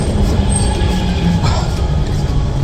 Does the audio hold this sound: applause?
no